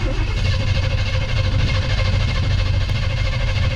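A 1976 Chevy K10 truck engine cranks on its starter to build oil pressure, a loud, steady churning rumble that continues without pause and never catches.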